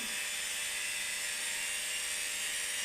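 A Parkside router from LIDL, a 2022 model, runs steadily with a smooth, high-pitched whine that holds constant and close throughout, with no voices.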